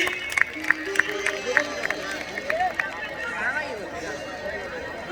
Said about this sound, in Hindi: ताली बजाइए अपने आप के नाम पर